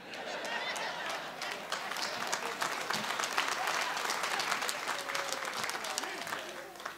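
Applause from a live comedy audience fills the space, a dense, sustained crackle of many hands clapping at a fairly even level throughout.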